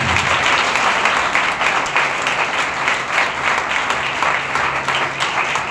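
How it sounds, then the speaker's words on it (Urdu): A church congregation at a Sunday service claps loudly and continuously, a dense, even roar of many hands sustained throughout without pause. "میں چاہتا ہوں مجوسیوں کے لیے زوردار تالیاں دیں۔"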